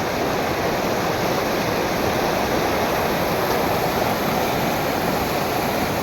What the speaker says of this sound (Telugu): this is our mini water falls